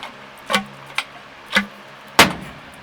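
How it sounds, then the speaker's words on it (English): A slide hammer bangs on a stuck bearing in a 1946 Chevy's electric power steering: four sharp, separate metallic impacts spaced about half a second apart, the last one loudest, in a quiet garage. "We'll just bang that bearing out. Slide hammer style."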